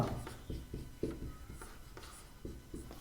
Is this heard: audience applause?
no